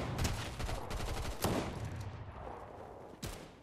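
Rapid SMG bursts in Fortnite, loud and close, firing in sustained rattling strings with brief pauses and a final sharp burst at the end.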